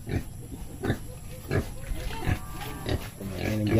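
Pigs grunting and squealing on a small farm, several close bursts in an uneven rhythm with some overlap, while someone talks nearby.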